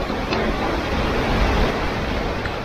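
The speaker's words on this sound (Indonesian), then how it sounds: "hujannya udah mulai keroyokan lagi nih" Heavy rain pours down steadily at a campground near a waterfall, a dense, unbroken roar that stays loud and even throughout.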